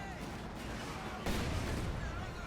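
A bundle grenade detonates in a real-time strategy battle, a muffled blast swelling out of steady background battle noise about halfway through and rumbling on at low volume.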